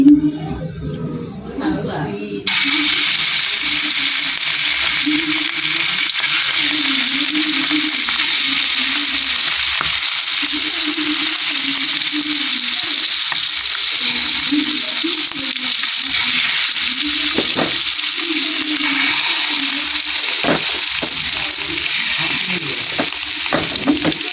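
Pieces of hilsa fish belly sizzle loudly in very hot oil in a wok, a dense continuous frying hiss that starts abruptly and holds throughout, with a voice audible underneath.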